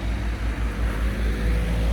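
Many cars pass along a cold city street, making a steady low rumble of traffic noise with no voices.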